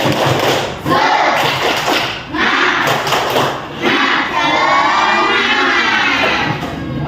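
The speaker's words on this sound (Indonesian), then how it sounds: "ayo kita tepuk semangat dulu ya, sama-sama yuk" Schoolchildren in a fourth-grade Islamic studies class perform a rhythmic spirit clap chant together, their loud, close voices chanting over thumping, patterned claps and taps that rise and pause in short bursts.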